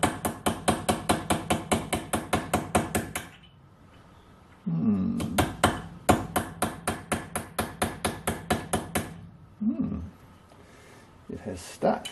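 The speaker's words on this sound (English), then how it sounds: "get a little cold chisel under it and just see what happens" A hammer drives a cold chisel under brazed aluminium in quick, regular metallic blows, bursts of rapid strikes separated by short pauses, with someone talking briefly between them.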